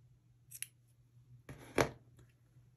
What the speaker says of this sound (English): cut the yarn at this point